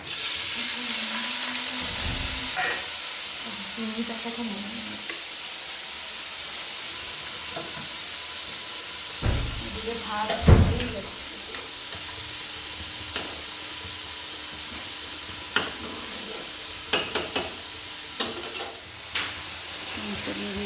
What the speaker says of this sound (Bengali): নর্মালি একটু ফ্রাই করে নেব